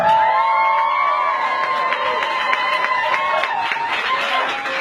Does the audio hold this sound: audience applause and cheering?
yes